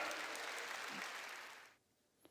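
Church congregation clapping together, a dense wash of applause that fades out after about a second and a half, leaving near silence with a faint tap at the end.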